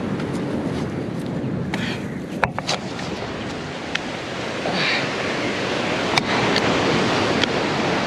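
Ocean surf at Auroville Beach in Pondicherry, a steady wash of breaking waves with gusty wind noise on the microphone and a few faint clicks, no talking.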